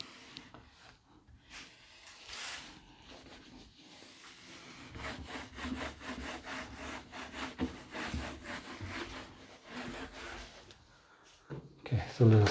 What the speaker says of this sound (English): so let us rub out this one first